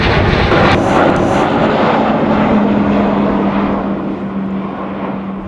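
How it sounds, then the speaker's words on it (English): A propeller airplane passes overhead, a loud steady engine drone with broadband rush that slowly fades as it moves away over a quiet countryside walk. "I've just had that plane fly over"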